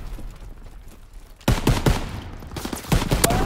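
Video game gunfire bursts in after a quiet opening, with loud, close volleys of rapid automatic shots and single cracks repeating irregularly over the back half.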